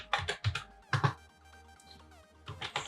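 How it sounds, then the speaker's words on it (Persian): Typing on a computer keyboard, quick clusters of close key clicks separated by short pauses, without talk. "خب حالا تایپ بکنید اکتیو"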